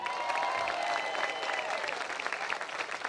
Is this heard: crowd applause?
yes